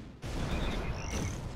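A nuclear blast from a weapon in the artillery video game ShellShock Live erupts suddenly into a loud, sustained roar with faint tonal game effects running over it.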